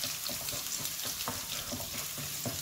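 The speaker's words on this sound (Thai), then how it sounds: "ผัดน้ำพริกเผาให้หอมก่อนนะ" Roasted chili paste (nam prik pao) is stir-fried in a pan over gentle heat, making a soft, even sizzle with repeated light scraping strokes of a utensil throughout.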